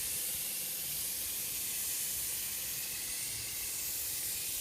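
A continuous, even spray hiss with no breaks, loud and close, from a spray gun applying gelcoat to a 1966 Corvette.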